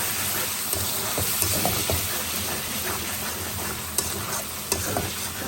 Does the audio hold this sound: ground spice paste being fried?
yes